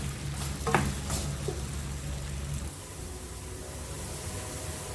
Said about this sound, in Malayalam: ഒരു മീഡിയം ഫ്ലെയിമിലിട്ടിട്ട് ഒരു 2-3 മിനിറ്റ് വഴറ്റി വേവിച്ചെടുക്കാം